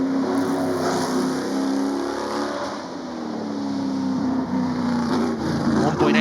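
A Hepworth-Ferguson race car accelerates up the Goodwood hill climb, its engine roaring loud and steady with a sustained revving note over the full stretch, crowd-like background noise beneath.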